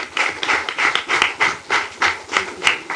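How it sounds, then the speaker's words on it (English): An audience at a social entrepreneurship symposium claps, irregular bursts of hand claps rising and falling in uneven waves from a smallish crowd nearby. "I think let's add him another round of applause."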